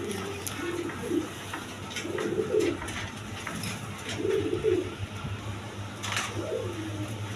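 Colouring gorra pigeons coo in repeated low, burbling phrases spaced a second or two apart, moderately close, over a steady background hum.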